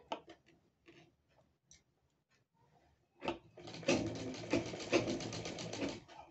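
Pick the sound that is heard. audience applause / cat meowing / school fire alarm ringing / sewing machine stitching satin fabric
sewing machine stitching satin fabric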